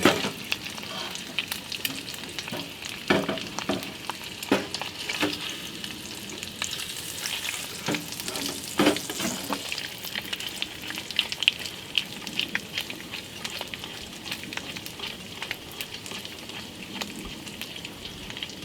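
An egg fries in a greased Stanley fry pan, a continuous crackling sizzle with irregular pops and spatula scrapes, close and fairly loud, running on without any talking.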